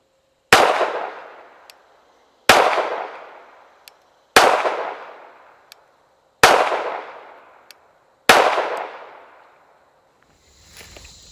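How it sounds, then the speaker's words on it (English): Five sharp pistol shots from a Sig Scorpion Carry 1911 ring out at an outdoor range, evenly spaced about two seconds apart, each a loud crack followed by a long decaying echo, with faint small clicks between them. "So here we go, 5 shots to the body from 15 yards."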